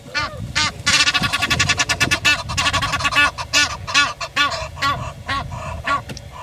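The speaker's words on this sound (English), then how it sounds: "On this other side we have an Egyptian duck." Egyptian geese in Amboseli give loud, repeated nasal honks in rapid bursts that slow toward the end, close by, over a low background rumble.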